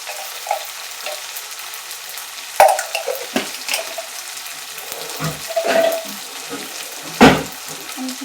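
Spices sauté in a pan over a high flame with scattered spoon scrapes and stirring knocks over a low sizzle, close by, and a louder clatter toward the end.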